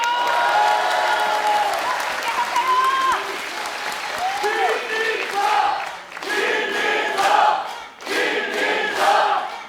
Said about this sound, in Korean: 자꾸 박수 치시면 자꾸 더 해야 됩니다